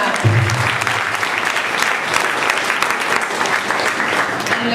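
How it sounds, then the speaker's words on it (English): Applause from parents at a pre-primary school talent show, a loud, continuous wash of many hands clapping at once, holding steady throughout with a faint crowd murmur underneath. "A very big round of applause for this guy."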